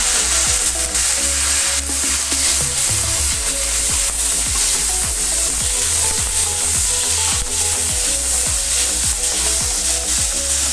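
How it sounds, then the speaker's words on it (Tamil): Onions and tomatoes sauté loudly in a pan for a jackfruit seed curry, a dense, continuous close-up sizzle with stirring scrapes throughout and no speech. "இப்போ இது ஒரு 2 minutes நம்ம இந்த வெங்காயம் தக்காளி நல்லா வதங்குற வரைக்கும் இதை நம்ம விடலாம்"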